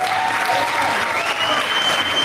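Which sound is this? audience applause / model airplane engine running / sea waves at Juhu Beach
audience applause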